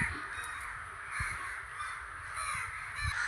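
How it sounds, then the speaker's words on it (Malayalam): Crows caw near a riverside house, several harsh calls repeating irregularly at a moderate distance over quiet outdoor ambience. "വീട് പുഴ സൈഡായതുകൊണ്ട് തന്നെ നല്ല കാക്കയുണ്ട് അതിൻ്റെ ശല്യമാണ്"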